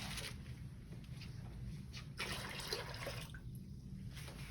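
Cold water running from a tap during a rinse in a care-skills setting, a steady soft trickle and splash that stays faint and continuous throughout, with brief surges partway through.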